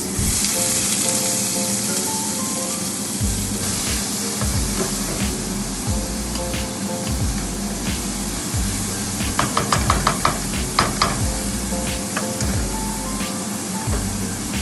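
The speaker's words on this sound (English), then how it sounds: "As the onions cook down till they're golden brown" Onions frying in a heated pot give a steady, close sizzle and hiss, with a few brief clinks and stirring sounds midway; no one speaks.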